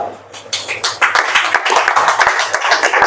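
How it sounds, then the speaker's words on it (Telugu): An audience claps together in a spiritual discourse hall, a dense, steady round of applause rising quickly after a brief quiet start and holding loud and close for the rest. "మరి మన ధర్మంలో ఇంతటి గొప్పతనం ఉన్నందుకు మనము మన ధర్మం కోసం చప్పట్లు కొట్టొచ్చా లేదా?"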